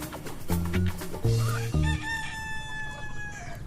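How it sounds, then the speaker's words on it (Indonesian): Chickens cluck in short bursts, then a rooster lets out a long, loud crow close by, its call stretching over the latter half with no talking. "Kayak ada ayam lagi."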